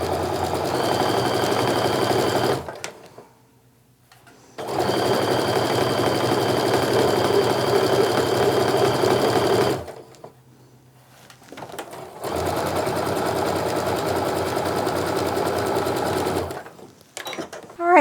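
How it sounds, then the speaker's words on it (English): Sewing machine stitching quilt diamond pieces right sides together in three long, steady runs of rapid mechanical whirring, separated by short quiet pauses, close and loud. "And then just sew that right sides together."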